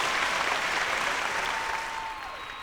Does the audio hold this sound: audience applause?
yes